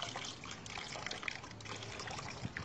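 Water trickles and splashes from a gas cylinder into a basin, a faint continuous dribble with small irregular splashes throughout.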